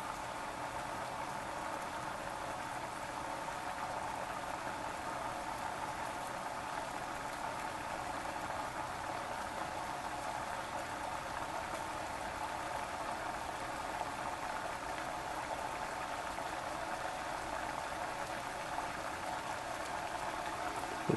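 Liquid nitrogen boils in an overclocking pot, a constant fizzing, bubbling hiss with no breaks, steady and fairly quiet, alone without talk.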